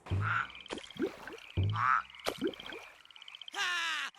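Frogs croak in Just Dance 2022, a run of loud, punchy croaks in an uneven rhythm, closing with a longer, raspy croak, close and clear with no talk.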